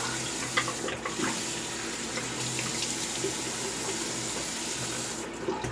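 Tap water runs steadily into a bathroom sink while a double-edge razor loaded with a Bolzano Superinox blade is rinsed under it, a continuous close splashing hiss lasting throughout with no voices.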